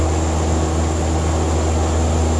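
Loud, steady turboprop roar of a Dash 8 airliner climbing after takeoff, heard from inside with a constant propeller hum and engine drone and no speech in this moment.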